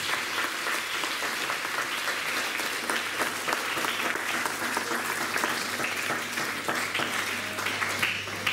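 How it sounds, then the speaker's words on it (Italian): Sustained applause from an audience gathered at a school event on fighting the mafia and femicide, a dense, steady wash of clapping with no voices. "vogliamo accogliere con un applauso"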